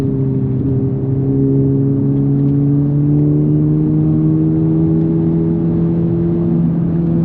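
Engine of a Honda Civic Type R FL5 droning loudly and steadily throughout, with smooth sustained tones and a slight upward shift in pitch, heard close up without any talking.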